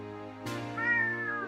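A pet cat gives one close, clear meow that swells and trails off slowly, rising over a steady hum of indoor background noise.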